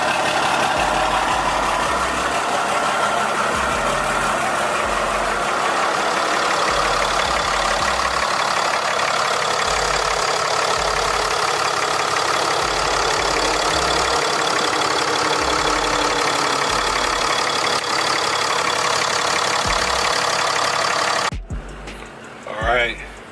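A truck engine idles after an early-morning cold start, just after an upper coolant line has been installed. A steady, close rumble with low, regular pulses runs throughout, then cuts off abruptly near the end.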